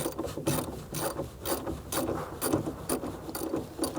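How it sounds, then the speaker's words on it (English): A ratchet with a 10mm socket loosens the positive battery terminal on a 2016-2019 Chevrolet Cruze. The pawl clicks in quick, steady rhythmic bursts, close up and fairly quiet, with no voices. "we're going to remove the positive battery terminal using a 10mm socket as well"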